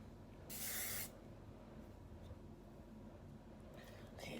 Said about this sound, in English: Better believe I'm spraying the hell out of this hair